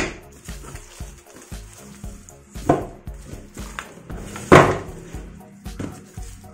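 Knife or cutter slicing open the packaging of a computer mouse, a series of short scraping cuts and clacks with a couple of louder tearing snaps, close and alone.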